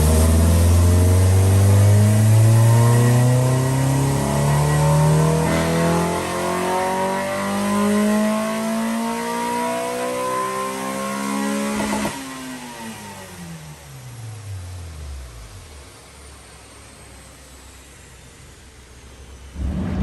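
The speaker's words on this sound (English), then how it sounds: "All done, just came off the dyno" A track-prepped race car engine revs hard on a dyno, its note climbing loud and steady before the throttle lifts near the middle and the revs drop away, leaving a fading, quieter idle-down.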